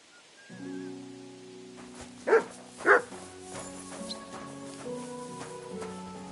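A dog in the video game Kingdom Come Deliverance 2 gives two short, fairly close barks over a steady game music bed.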